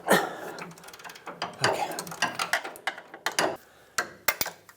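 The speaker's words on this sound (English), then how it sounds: "These are pretty tight, which is why I said you'll need a long ratchet." Ratchet loosening a tight bolt on the power steering return hose of a 1996-2002 Toyota 4Runner, with repeated sharp clicking pawl strokes in uneven bursts, close and fairly loud, with a brief voice in the background.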